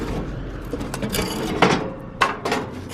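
Metal grates being handled during trash picking, clanking and scraping in a few sharp bursts against quieter rubbing and shuffling, fairly close with no talk.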